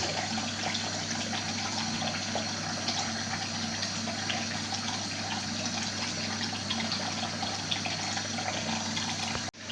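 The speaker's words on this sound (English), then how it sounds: "I've got the water running here, just rinse off the excess foam and the hair" Tap water runs steadily from a faucet during a safety-razor shave, a continuous close hiss and splash with no talking.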